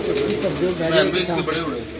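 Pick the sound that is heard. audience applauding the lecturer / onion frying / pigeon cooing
pigeon cooing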